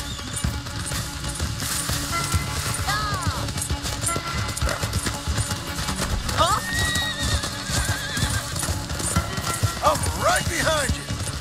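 Horses neigh and whinny over busy galloping hoofbeats in Red Dead Redemption 2, with voices talking and shouting throughout in a lively, game-like scene.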